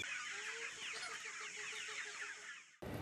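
Farm chickens cluck steadily, a dense chorus of hens close by with soft repeated calls over a constant hiss, ending abruptly with a short burst of noise.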